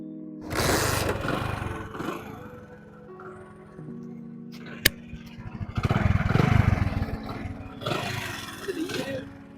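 A Hero Honda motorcycle engine is kick-started by foot and revs in uneven bursts, with a low rumbling idle between throttle blips and a sharp click midway.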